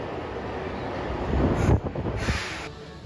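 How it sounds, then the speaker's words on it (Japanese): A subway train rumbles through a Fukuoka underground station platform, a steady rolling roar that swells and peaks midway with some rattling before settling, no voices present. "地下鉄のプラットホームに降りてくるとこんな感じ"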